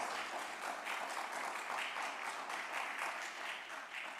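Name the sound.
round of applause for new facilities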